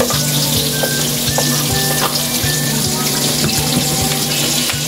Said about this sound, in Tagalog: Pwede na natin ilagay yung ating sibuyas.